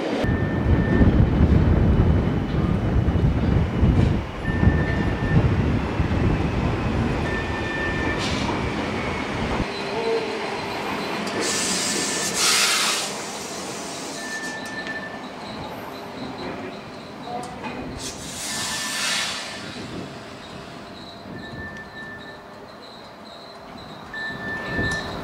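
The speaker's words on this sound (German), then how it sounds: "Die moderne bimodale Rangierlok bringt den Wagenzug aus der Abstellgruppe ins Gleis 6." A modern bimodal shunting locomotive of the Rhaetian Railway rumbles and hums while rail cars roll past, with metallic clanks, squeals and a repeating beeping tone over the heavy rolling noise.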